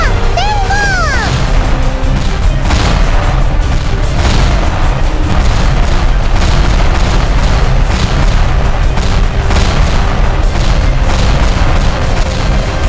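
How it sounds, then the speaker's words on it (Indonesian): Gunfire in a Sakura School Simulator video game, a dense, loud, continuous volley of shots and booms with a few whistling tones near the start. "kita bikin suara tembakan"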